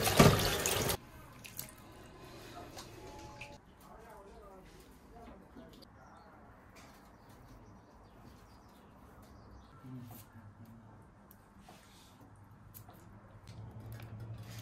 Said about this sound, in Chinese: 把这个羊肉洗一下